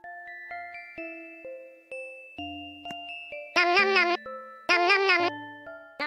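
Doorbell chimes in the Roblox game Hallowsville, a series of clean descending tones ringing out one after another alongside game music, followed by two loud bursts of a cat-like meow.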